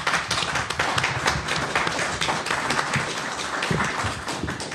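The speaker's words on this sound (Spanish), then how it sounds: "cedería el uso de la palabra al doctor Rodolfo García del Castillo, para quien pido un fuerte aplauso." An audience at a Mexican academic lecture on municipal government applauds a speaker being introduced, with steady, dense clapping from many hands for the full stretch.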